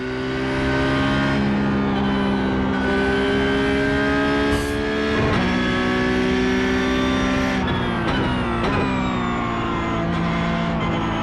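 A Porsche Cup race car's engine howls on throttle, loud and close, holding a steady high rev with brief dips and shifts before climbing again, with no talk over it.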